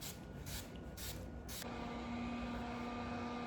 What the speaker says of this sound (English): Now go ahead and set the face using that Urban Decay All Nighter setting spray.